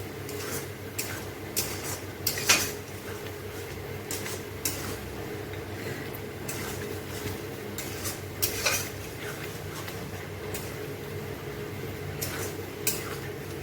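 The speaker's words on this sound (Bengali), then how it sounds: "এখন খুব সুন্দর করে হাই ফ্লেমে এটাকে ভাজা ভাজা করতে হবে" Shredded lote (Bombay duck) fish stir-fried on high flame in a pan, with a steady sizzle under repeated sharp spatula scrapes and knocks against the metal, close-up.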